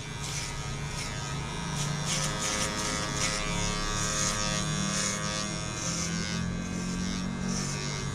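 Electric hair clipper fitted with a number 1 guard cutting hair, a steady close buzzing hum with slight rises and falls as it moves through the hair, with no talking.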